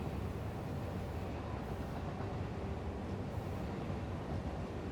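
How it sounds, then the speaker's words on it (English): A train rolls past in the factory-building video game Satisfactory, a steady, loud rumbling drone that fills the whole stretch without breaks, close by and unaccompanied by talk. "Excuse me, train."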